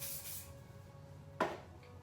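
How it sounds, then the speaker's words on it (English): Hairspray is given a brief, close hiss over a set hairstyle, a single short spray burst against a quiet background. "So I'll pop a little spray just over the top,"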